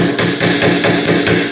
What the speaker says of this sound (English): then I'm going to hammer it a little